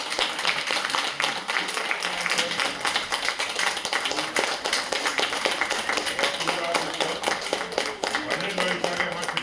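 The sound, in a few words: audience clapping to honour founding members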